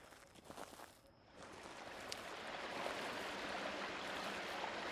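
A spring in a video game suddenly shoots out a gushing stream of water, a soft rushing hiss that swells after a quiet moment and holds steady, faint and distant.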